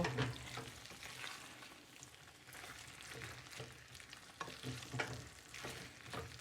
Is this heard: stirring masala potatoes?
yes